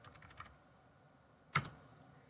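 Typing on a computer keyboard while filling in a Google Forms multiple-choice option: a few faint soft keystrokes early, then one louder clustered key burst, quiet and close with no talking.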